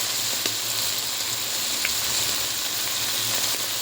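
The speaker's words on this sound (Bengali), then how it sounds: "এদিকে চালগুলো ভাজি করে নিচ্ছি" Rice grains frying in a pan with ghee, prepared for Bengali prawn pilaf (chingri polao), giving a steady, close, even sizzle that holds without a break, with no talking.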